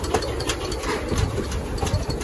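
A Vale of Rheidol heritage train pulls into the platform at Aberystwyth, giving a steady, loud, close low rumble with a continuous broadband rushing noise and faint irregular clatter throughout, with no voices.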